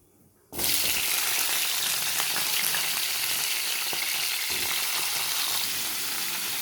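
Cumin seeds, cut stalks and potatoes hitting hot oil in a pan, a loud sizzle bursting in after a brief quiet start and holding steady and close throughout.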